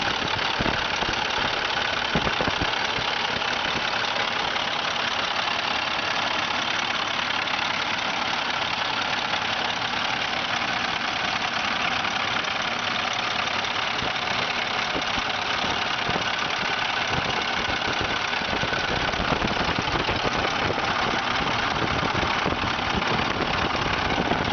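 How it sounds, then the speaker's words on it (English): Car engine idling steadily, recorded up close in the open engine compartment, a continuous dense rumble with a faint ticking texture running throughout. "then we'll do an up close around the engine compartment and let you get the view of it with it running so you can hear the sounds"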